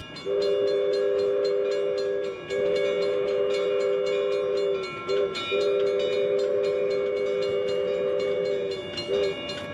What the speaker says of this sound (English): Diesel D3, a General Electric 44-ton switcher, brings a train into Gold Hill